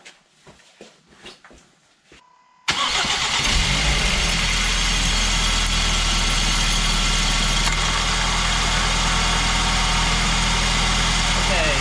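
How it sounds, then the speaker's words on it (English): After a few seconds of quiet talking, a 2011 Volvo V50 2.0 petrol engine cranks and catches with a sudden roar, then settles into a loud, steady idle with the air conditioning running. "So I will start the car."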